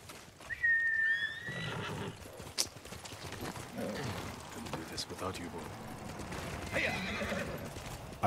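A horse in Ghost of Tsushima gives a loud whinny, then its hooves clip-clop at a fast gallop, with a second neigh near the end and a sharp clack midway. Voices talk over the hoofbeats.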